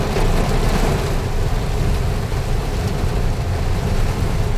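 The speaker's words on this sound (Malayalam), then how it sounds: "അത് കോരിച്ചൊരിയുന്ന മഴ" Pouring heavy rain roars in a loud, unbroken broadband wash. It holds steady throughout, with no voices heard.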